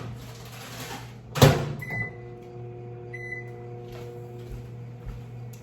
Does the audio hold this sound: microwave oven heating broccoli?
yes